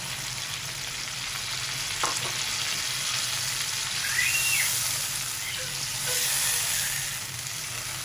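Tomato and masala with water are stirred in a hot pan for arvi gosht, a steady close sizzle and frying hiss with occasional scraping of the spoon.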